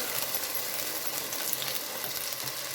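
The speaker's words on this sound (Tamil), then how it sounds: "கொஞ்சமாக பேனில் எண்ணெய் ஊற்றிட்டு நல்லா நைஸாக பொடியாக கட் பண்ணால் பூண்டு ஒரு 2-3 பல் சேர்த்து லைட்டாக வதக்கிட்டு" Finely chopped garlic, two or three cloves, sautéing lightly in a little oil in a pan, a steady soft sizzle and hiss throughout with faint stirring movement, no voices.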